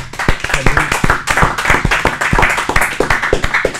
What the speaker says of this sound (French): Moi, j'aimerais qu'on applaudisse.